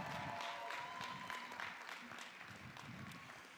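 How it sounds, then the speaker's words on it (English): Sustained applause from a university graduation audience greeting the class of 2026, a steady wash of clapping throughout with some faint voices mixed in. "Please join me in giving them a round of applause."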